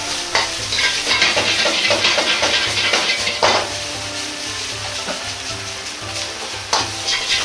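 Fried rice with shrimp sizzles loudly in a wok, soy sauce added at the edge, with rhythmic scraping and clanking of a ladle stirring and tossing it throughout.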